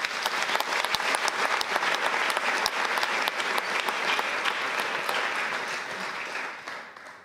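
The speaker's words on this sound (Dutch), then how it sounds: "Geef me een warm applaus met Thomas Dekker." Warm audience applause at a talk and screening event, steady close clapping from a crowd that holds for several seconds and then fades away.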